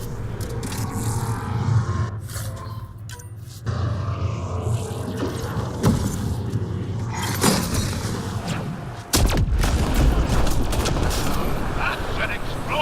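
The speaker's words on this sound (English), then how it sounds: "That's an explosion!" An explosion goes off in the sci-fi video game Mass Effect: Andromeda, with heavy thuds and blasts over a busy game soundscape and music, and speech is also present.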